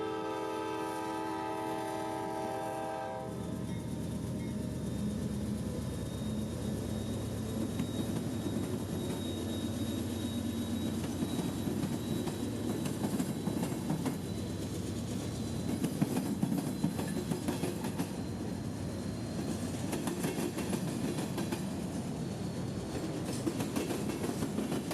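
A Norfolk Southern freight train led by an old Dash 9 locomotive rolls past with a rumbling engine, a horn blast at the start, then a continuous rattle and clatter of cars, fairly distant and steady.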